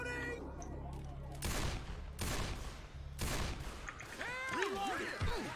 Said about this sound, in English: Quit freaking shooting me.